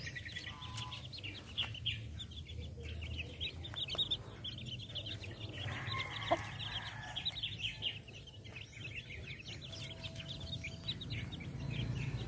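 Soft clucking and chirping from chickens pecking on the ground outdoors, faint and intermittent over a low background of farm ambience, with occasional higher bird calls.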